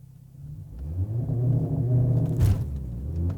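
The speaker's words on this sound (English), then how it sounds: "I have no idea how to do launch control in this car, but we're gonna try it out." A 2020 Mercedes CLA45 AMG with a dual-clutch gearbox doing a launch-control start: a low rumbling idle builds into a hard, loud acceleration, then a brief gearshift break and renewed engine pull, heard from inside the car.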